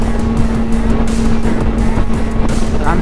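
A 2005 Honda CBR 600RR sport motorcycle cruising at about 80 mph, its engine holding a loud, steady drone close to the rider and mixed with constant wind rush.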